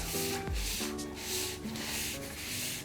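Hands press and smooth a key lime pie crust up the sides of a pan, a soft continuous close rubbing and sanding-like hiss with a low thud near the start.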